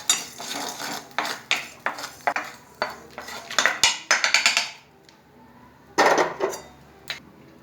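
Salt is stirred and roasted in a hot pan for sukku paruppu podi, a dry ginger and lentil powder. A spoon scrapes and clinks against the pan in quick rhythmic strokes, close by, then pauses before one last burst of stirring.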